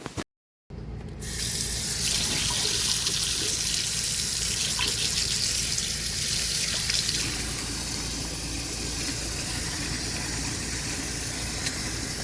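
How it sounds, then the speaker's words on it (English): Water gushes steadily from a kitchen tap into a sink to cover freshly harvested garden vegetables, a loud continuous rush starting after a brief pause and staying constant throughout. "we're adding just enough water to cover them all"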